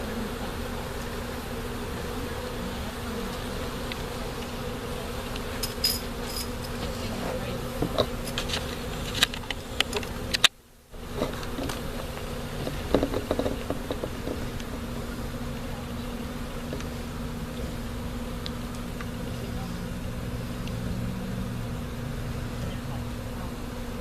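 Honeybees from a nuc hive being installed into a new hive drone in a dense, steady swarm hum that runs throughout, with louder agitated bursts, faint voices and a brief dropout midway.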